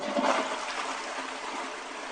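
A toilet flushing, a steady rushing wash of water with a brief louder gush at the start, fairly close and continuous throughout, no talk.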